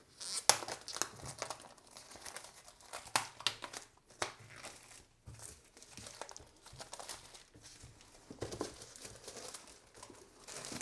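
Plastic shrink-wrap is crinkled and torn off a Viticulture Essential Edition board game box, a close, busy run of crackling rustles and sharp tearing bursts with brief pauses, no talking.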